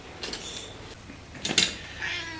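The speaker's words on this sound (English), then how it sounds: "Somebody was asking where the kitty was." A pet cat named Cole meows in a bronze-casting workshop, giving a couple of short cries and then a louder, sharper meow near the middle, with quieter mewing toward the end and no talking.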